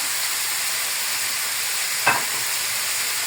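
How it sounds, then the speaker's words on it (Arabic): Garlic cloves and carrots sizzle in a pot for a lamb kabsa, a steady close hiss broken once by a brief stirring scrape. "هنا هننزل بفصين الثوم اهو، وهننزل بالجزر عشان بياخد وقت شويه اهو. هنديهم تقلبتين بس كده في النص"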